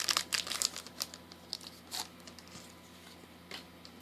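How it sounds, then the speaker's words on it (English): Scissors cutting open the crinkly foil wrapper of a Pokémon card booster pack, close bursts of crinkling and snipping that are busy at first and then thin out to occasional rustles. "I'm always hesitant how deep I want to cut with these scissors"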